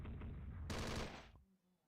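Rapid enemy gunfire rattles through a strategy video game battle, a dense burst of automatic shots that swells louder midway and then cuts off abruptly, leaving a faint low hum.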